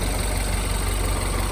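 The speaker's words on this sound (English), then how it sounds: "It seems a bit shaky. I think that's probably because I had some oil in the pistons and things. It's not actually misfiring." A rebuilt Mini Cooper S N18 engine idles with a steady, slightly shaky low rumble, close and loud, with no talking.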